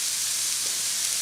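Ground beef seasoned with black pepper, garlic powder, cumin and chili powder sizzling in a pan, a steady bright frying hiss, close and continuous, with no talking.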